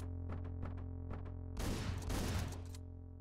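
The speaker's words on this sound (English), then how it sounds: "I can just like take the majority out with the shotgun." Shotgun fire in the top-down action game Hotline Miami, a dense burst of overlapping blasts lasting about a second, set against steady pulsing background music.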